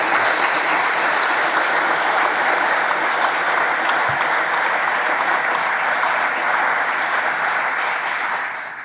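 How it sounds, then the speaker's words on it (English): Loud, sustained applause from a large crowd at a military change of command ceremony, a thick continuous roar of clapping that holds steady and tapers slightly at the end. "let's give a round of applause"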